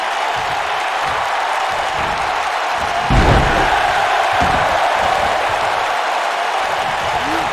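A pro wrestling crowd cheers and claps in a sustained roar, with a heavy thud from the ring midway and a few lighter impacts beneath the noise.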